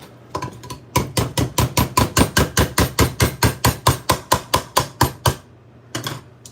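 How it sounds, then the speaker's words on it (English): Food being mashed with heavy cream in a home kitchen, a fast, even series of about twenty loud thumping strokes close by, then a brief pause and one last stroke. "Still give it a good mash."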